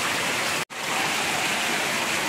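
Heavy monsoon rain pours down while floodwater rushes past, making a dense, loud, continuous roar that cuts out for a split second before resuming at full strength.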